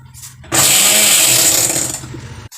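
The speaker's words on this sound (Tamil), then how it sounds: "இப்படி நல்ல மசி போல் அரைச்சி வைக்கணும்." A kitchen mixer grinder blends ingredients for a Nagercoil-style ulli theeyal into a fine paste, starting abruptly with a loud, steady high-pitched whir that runs for about two seconds and then cuts off.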